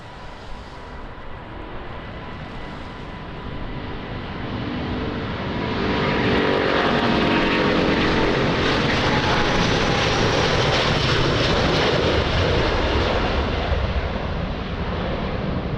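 An airplane approaches Lisbon Airport in wind and rain, its engine roar growing from a distant rumble to a loud, broad jet rush that holds near the end, with no speech.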